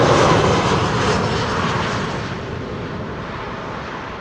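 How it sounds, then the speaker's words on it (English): A KLM airliner on its arrival from Milan at Amsterdam Schiphol gives a loud, full-bodied jet roar that fades steadily as it passes, with no talk over it. "This is KLM flight 1614 arriving from Milan in Rome."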